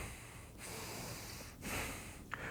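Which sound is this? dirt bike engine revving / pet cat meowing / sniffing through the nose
sniffing through the nose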